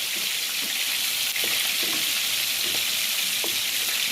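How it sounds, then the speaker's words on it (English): Ground beef sizzles and fries in a pan, a steady loud crackling hiss with a few soft stirring scrapes and no voices. "so now the beef is cooking"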